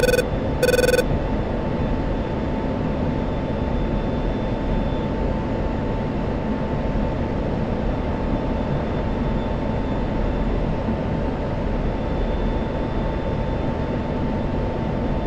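A steady, loud roar from an F-16 jet engine at full afterburner in DCS World, continuous broadband rumble and hiss lasting throughout, after two brief tonal beeps at the start, with no voices.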